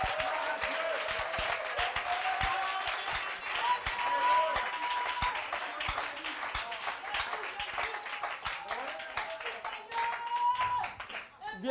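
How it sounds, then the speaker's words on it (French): Church congregation clapping steadily throughout a worship service, dense rhythmic handclaps with sung or shouted voices mixed in over the applause. "Tu peux applaudir le Seigneur."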